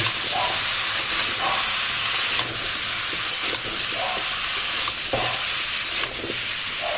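Raw mango pickle with turmeric powder frying in a pan, a steady loud sizzle with occasional stirring scrapes throughout, no voices.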